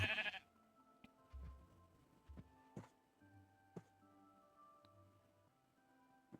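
Sheep in the video game Minecraft bleat in a few short, faint calls spaced across the stretch, mixed with quiet clicks and low game sounds, with no talking.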